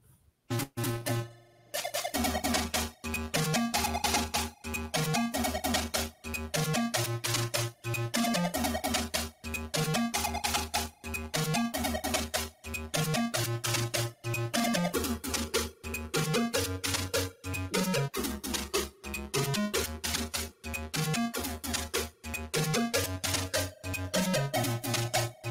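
Chiptune video game music from the Atari ST sound chip plays as a bright, buzzy square-wave melody over a pulsing bass line, steady and rhythmic throughout with no talking.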